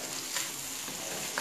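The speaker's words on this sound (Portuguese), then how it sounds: "Você dá uma primeira fritada nessa metade" Calabresa sausage fries in a pan for feijão tropeiro, giving a steady, close broadband sizzle with faint stirring clicks and no talk.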